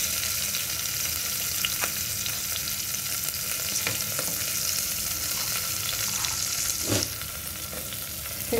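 Carrots for Kashmiri pulao fry in a pan, giving a steady, close sizzle with faint clicks of stirring and one sharper clatter near the end, after which the frying settles slightly quieter.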